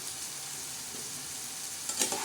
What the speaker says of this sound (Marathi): ते बघा कसं छान असा तडका बसतोय बघा